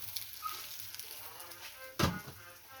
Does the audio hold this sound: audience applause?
no